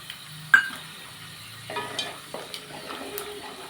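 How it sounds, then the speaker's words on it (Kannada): Peanuts and cashews frying in oil in a pan, a quiet, continuous sizzle broken by a sharp clink early on and a few soft scrapes and taps of a spoon. "ಶೇಂಗಾ ಬೀಜ ಕೆಂಪಾಗ್ತಿದೆ ಈಗ ಇದಕ್ಕೆ ಸ್ವಲ್ಪ ಗೋಡಂಬಿ ಹಾಕ್ತಾಯಿದ್ದೀನಿ"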